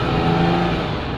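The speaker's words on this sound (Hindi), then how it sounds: "मैंने रेस भी दे ली" A car engine revs steadily while in gear with a slipping clutch, a loud, constant mechanical drone with no change in pitch, heard briefly and alone.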